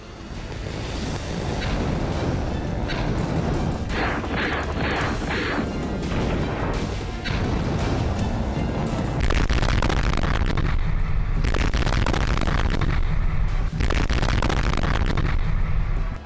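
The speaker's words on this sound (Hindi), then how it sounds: "गाजा पर इजराइल की बमबारी।" Israeli bombing in Gaza, a dense continuous roar of blasts and crashing debris, loud and sustained with a few sharper impacts standing out.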